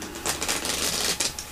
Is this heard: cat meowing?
no